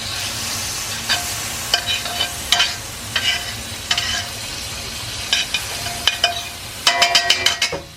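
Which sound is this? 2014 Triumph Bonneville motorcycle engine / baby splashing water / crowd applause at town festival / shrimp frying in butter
shrimp frying in butter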